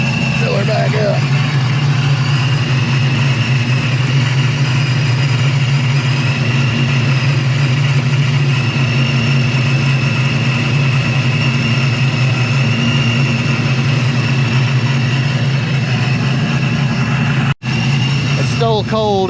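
A cold car engine idles steadily after a coolant refill, a continuous low hum with a faint higher whine running throughout, and a brief sharp click near the end.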